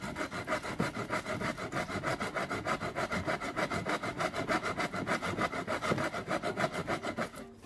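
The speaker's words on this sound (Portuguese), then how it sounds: "vamos testar a nossa serra" A handmade survival saw cuts through a fallen log outdoors with steady, rapid back-and-forth rasping strokes, loud and close, continuing evenly before stopping at the end.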